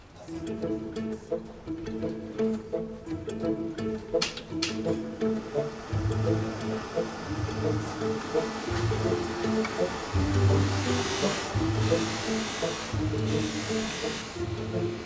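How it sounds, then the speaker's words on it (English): A polishing machine works on brass parts, giving a steady, buzzing motor hum that runs without a break, with a brighter grinding hiss swelling and fading in the later part. "I'm going to take this over to the polishing machine and polish these two parts here"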